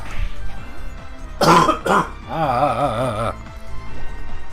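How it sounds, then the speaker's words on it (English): A man coughing and clearing his throat indoors, several harsh rasping bursts close to the mic, with a game's background music playing underneath. "People don't want to hear me coughing."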